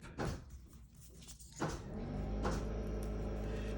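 A screen door being installed on a deck gives off a few scattered knocks and clattering bumps, muffled and some distance away, followed by a steady low background rumble.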